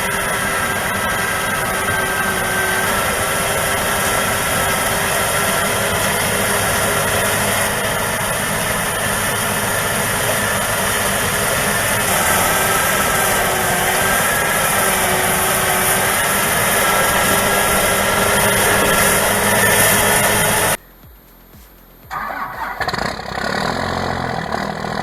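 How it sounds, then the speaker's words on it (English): A John Deere-style 6210R tractor fitted with an Overrossen 2PV 150S snowblower runs steadily, a loud continuous diesel drone with a broad whooshing roar, cutting out abruptly near the end before a quieter engine sound resumes. "6210R tractor paired with an Overrossen 2PV 150S snowblower."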